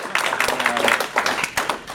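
Audience at a Green Party of Ohio state meeting claps steadily across the room, a dense, moderately loud patter of many hands with uneven swells.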